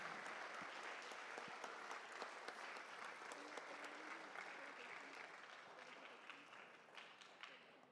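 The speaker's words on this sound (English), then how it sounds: "Give Madhuri yet another huge round of applause for this" Audience applause in a hall after a Bharatanatyam Arangetram, dense steady clapping from a large crowd that carries on for the whole stretch and fades slightly near the end.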